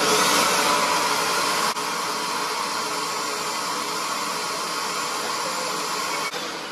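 An upholstery cleaning machine sprays water onto a sofa with a loud, steady hissing whir heard close up. The sound dips briefly twice, and no one speaks.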